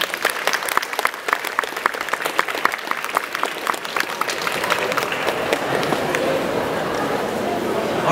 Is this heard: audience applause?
yes